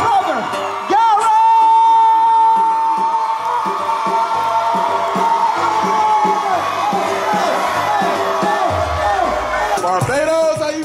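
Audience at a Forex company launch event in Barbados cheering, whooping and screaming loudly for a man named Gary, a sustained roar of voices with shouts rising and falling.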